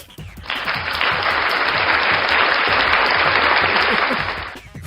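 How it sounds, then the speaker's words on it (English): A burst of crowd applause, likely a sound effect played during a live stream, starts abruptly, holds as a loud, uniform clapping roar, then cuts off sharply, with faint voice and background sound around it. "let's get a double applaud for both Dragon Pixel and Lynn"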